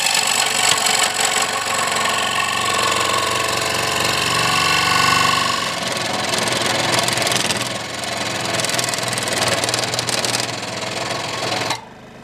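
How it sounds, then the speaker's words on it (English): A scroll saw cuts out a guitar neck blank in a workshop, its fast reciprocating motor buzzing loud and steady, dipping slightly midway before stopping abruptly near the end. "So I'm going to take this as a scroll saw right now and get this cut out."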